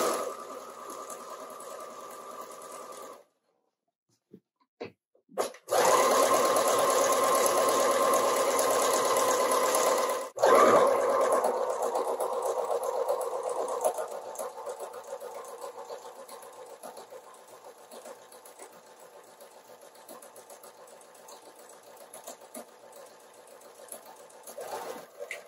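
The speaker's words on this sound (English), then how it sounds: "We're going to continue top stitching along the upper edge of the tie and the" A sewing machine top-stitches along the edge of a fabric apron tie and waistband in steady, loud bursts of rapid needle whirring. A short pause separates the bursts, and the stitching fades gradually toward the end.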